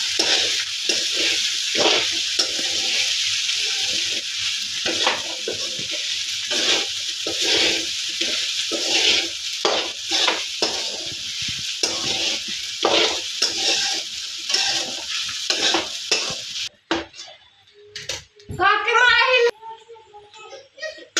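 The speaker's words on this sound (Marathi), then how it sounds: "व ते अशा प्रकारे हलवायचे आहे" A spatula scrapes and stirs fasting sabudana khichdi in a pan, with rhythmic scraping strokes over a steady sizzle before a brief spell of quieter kitchen sounds and a voice near the end.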